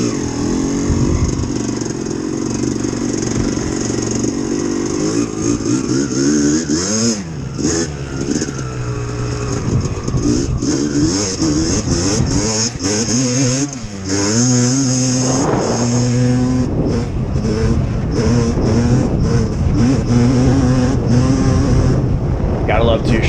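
Banshee two-stroke engine fitted in a YFZ450 quad, revving hard and repeatedly with rising and falling pitch sweeps, buzzy and raspy, with clattering and some voices mixed in, continuous and loud throughout.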